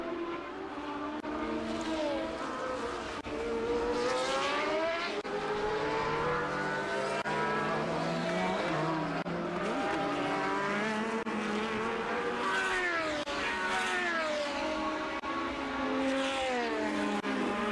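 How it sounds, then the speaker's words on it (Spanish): 1983 Formula 1 turbo-engine race cars at the Dutch Grand Prix scream past continuously, with overlapping engine notes rising and falling in pitch as cars come and go, loud and sustained throughout. "Sonido característico de esos motores turbo de esa etapa de las décadas de los 80."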